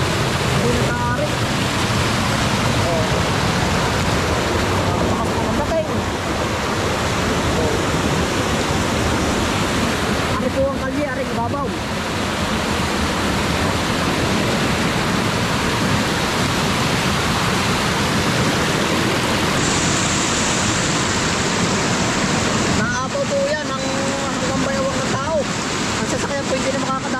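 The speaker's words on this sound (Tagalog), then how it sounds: "Ang laka po ng baglas ng dinaanan ng baha, oh." Strong, brown floodwater rushes steadily down a mountainside in Barangay Palola, a loud continuous roar lasting throughout, with voices briefly speaking over it.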